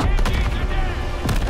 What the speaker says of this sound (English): you're getting shot up